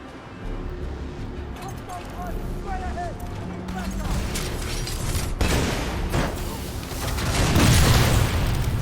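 Grenade launcher explosions in Titanfall 2 sound as repeated heavy booms and bursts of rumbling, building louder toward the end, under a voice and game effects.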